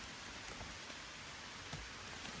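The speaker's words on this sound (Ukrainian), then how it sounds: "Розпочався, друзі, дощ." Rain begins falling outdoors at a metal-detecting search site in Ukraine, a steady, dense hiss scattered with small drop patters. It is heard alone with no voices.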